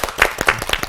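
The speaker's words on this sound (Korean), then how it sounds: "박수로 한번 환영합니다." A short burst of applause from a church Bible study congregation welcoming a newcomer, uneven individual claps close by, lasting under a second.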